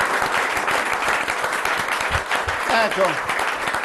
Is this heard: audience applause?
yes